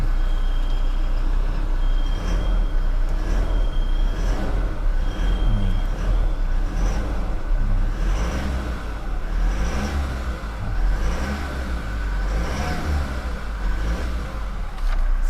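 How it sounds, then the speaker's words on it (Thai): A Toyota Revo pickup truck engine idling steadily and loudly nearby, a continuous low rumble with a faint whine and regular ticking over it. "เดี๋ยวฟังเสียงเครื่องยนต์ไปพร้อมๆ กันนะครับ"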